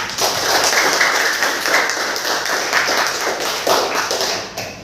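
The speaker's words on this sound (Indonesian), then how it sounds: "Silakan tepuk tangan dulu buat kita semua." A class of children claps hands in a dense, continuous patter of many overlapping claps that stays loud and steady, easing off at the end.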